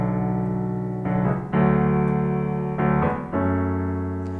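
A piano plays the sustained accompaniment chords of a song in a long, short, long pattern, with a few ringing chord changes in a slow rhythm and no voices.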